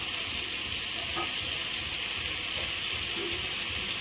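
Ghee sizzling in a hot pan with banana flower and cauliflower, a steady, even frying hiss that runs unbroken throughout, close and moderately quiet with faint clinks.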